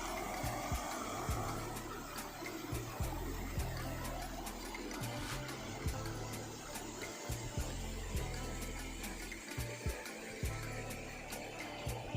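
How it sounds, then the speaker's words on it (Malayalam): A roadside waterfall near Devikulam, Munnar, roars as a constant broad rush of falling water, loud and close, with faint irregular knocks and rumbles underneath. "ഒരു വെള്ളച്ചാട്ടം കണ്ടപ്പോൾ നിർത്തിയതാണ്."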